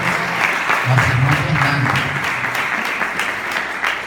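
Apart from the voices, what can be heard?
church congregation applauding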